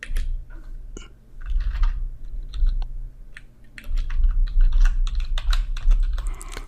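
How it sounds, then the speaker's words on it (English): Rapid typing on a computer keyboard while entering text into a web app, a steady run of close, crisp key clicks with brief pauses, heard alone without talk. "I'm going to type"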